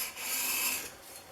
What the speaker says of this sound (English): So I did a little bit more lapping on it.